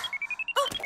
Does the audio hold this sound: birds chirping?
no